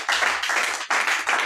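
A church congregation claps in unison, a dense rhythmic burst of hand claps with a brief pause before it resumes, close and loud, with no speech over it.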